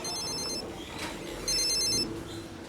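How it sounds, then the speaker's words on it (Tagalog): Mobile phone ringing in a TV drama scene: a bright electronic ringtone plays in two close bursts, clear and fairly loud over light room background, with no talking. "Nagre-ring ata cellphone mo."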